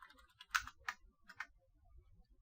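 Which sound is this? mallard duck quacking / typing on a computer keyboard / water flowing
typing on a computer keyboard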